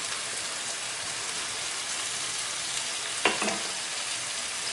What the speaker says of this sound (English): So I'm going to fry that for a few minutes